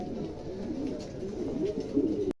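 Mundian pigeons coo in low, throaty rolling bursts at close range, a continuous warbling murmur with no talk over it.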